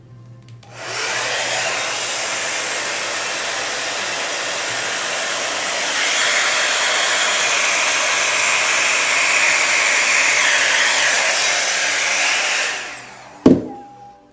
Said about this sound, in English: immediately go and use my hair dryer